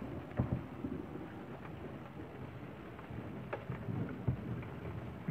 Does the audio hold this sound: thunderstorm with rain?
yes